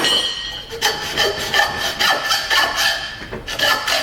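A saw blade rasps steadily through a Case 830 tractor crankcase breather tube, giving a rough, rhythmic cutting stroke that stays loud and close throughout, with no talk over it.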